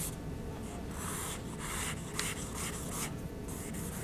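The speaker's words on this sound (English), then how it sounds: "I'm going to rub toward the center of the femur instead of rubbing into the background." Shading rubbed onto a femur drawing on paper gives a continuous close, dry rubbing and scratching texture with short repeated strokes, steady and alone.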